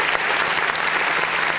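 Dense, even applause from a clap-button sound effect on a music review show, loud and continuous for its short length.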